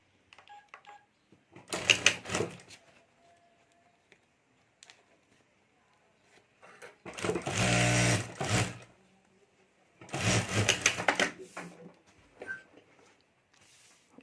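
A sewing machine stitching the fabric of a party-wear potli bag, running in three bursts of rapid mechanical whirring with quiet gaps and faint handling noises between them.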